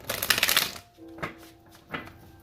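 A card is drawn from a deck for a healing reading. A brisk, close rustle of cards comes first, followed by two soft snaps spaced about a second apart, with no voices.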